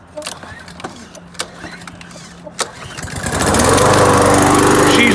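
A salvaged curbside lawn mower with fresh gas in it sputters through a few starting pulls, then catches and runs loud and steady close by; faint voices can be heard before it fires up.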